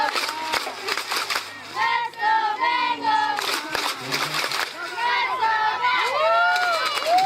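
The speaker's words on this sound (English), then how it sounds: "And the crowd is trying to rally the troops." A youth football game crowd cheers and shouts during the Ft. Benning Bengals versus South Columbus Raiders, with lively, overlapping children's and adults' voices forming a continuous, moderately close roar.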